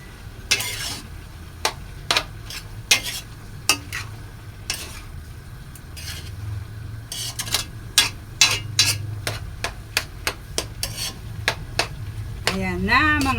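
Sautéed sayote (chayote) and sotanghon glass noodles are stirred in a pan, with a run of sharp scraping and clacking strokes from the utensil against the pan, evenly spaced over a low background rumble.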